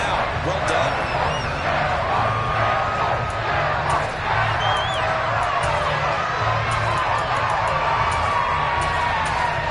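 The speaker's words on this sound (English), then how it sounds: "How about some applause for the defense there?" A stadium crowd cheers and applauds at a football game, a dense continuous roar with whistles and shouts, heard under steady talk.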